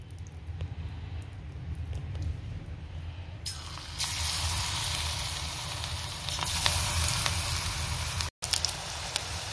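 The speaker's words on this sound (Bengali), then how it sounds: "তেল দিচ্ছি, এখন ভাজবো গরম গরম পাকোড়া।" Pakoras drop into hot oil in a wok and set off a steady crackling sizzle that swells partway through and carries on at moderate level, briefly cut by a short gap near the end.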